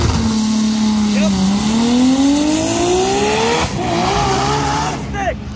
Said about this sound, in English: We confirmed it's stick shift. We heard him shifting.